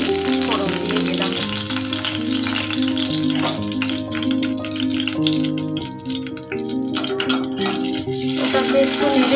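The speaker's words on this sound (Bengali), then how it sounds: "তেজপাতা, গরম মশলার মধ্যে এলাচ, দারচিনি আর লবঙ্গ আমি ফোড়ন দিয়ে দিলাম।" Whole spices (bay leaf, cardamom, cinnamon and clove) fry in hot oil with a steady close sizzle throughout, under a continuous tonal background melody.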